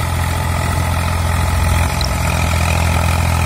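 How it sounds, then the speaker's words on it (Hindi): A heavy diesel engine of an Eicher 485 45 HP tractor idles steadily and loudly without load, with an even, low rumble that never changes pitch. "ये देखिए ट्रैक्टर बिल्कुल लोड फ्री चल रहा है।"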